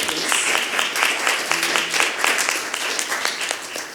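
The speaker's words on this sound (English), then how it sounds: "give one round of applause" A conference audience applauding at the close of a talk session, continuous crisp clapping from many hands throughout, moderately loud and close.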